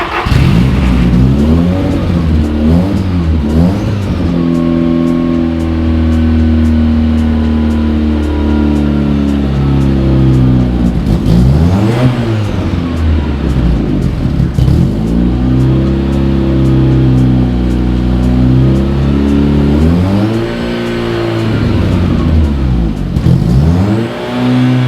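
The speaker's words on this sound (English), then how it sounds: "Maybe even hear what it sounds like with this full exhaust." VW Mk1 4Motion fitted with a custom full exhaust, revved hard close by in repeated sweeping climbs and drops in pitch, loud and sustained throughout, with no talking.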